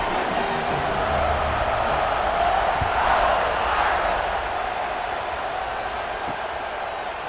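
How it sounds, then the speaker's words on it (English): Stadium crowd noise in the College Football 26 video game, a steady broad roar that swells slightly midway and holds throughout, loud and continuous. "You think this crowd's going to get loud when their defense comes on the field?"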